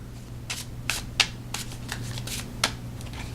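A brand-new Halloween tarot deck being shuffled by hand, a series of soft riffling bursts and papery flicks in an uneven rhythm, close and moderately quiet with low background hum.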